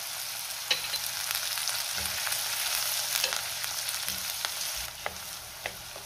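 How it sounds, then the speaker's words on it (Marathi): Chopped onion and curry leaves sauté in hot oil for tomato pithla, a steady broadband sizzle with occasional sharp crackles and light stirring clicks, close and continuous with no talking. "कांदा आपल्याला थोडा ट्रान्सपरंट होईपर्यंत परतून घ्यायचा आहे।"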